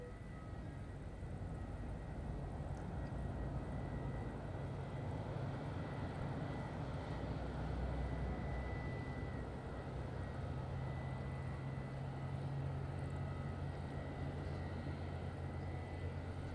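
An EasyJet airliner pushes back at Madeira Island Airport, its engines a distant, faint, steady low drone with a hum throughout.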